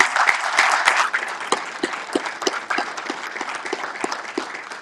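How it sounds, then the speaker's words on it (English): An audience applauds panelists after a discussion, starting as a full burst of many hands and thinning into scattered, individual claps that grow sparser toward the end. "can I get a round of applause for the panelists?"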